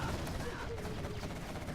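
Rapid quad cannon gunfire in C&C Zero Hour, bursts of game shots and impacts against a busy battle background while a commentator talks over it.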